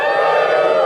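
An audience cheers and whoops together in one brief, loud, sustained burst of many voices, close and filling the whole moment.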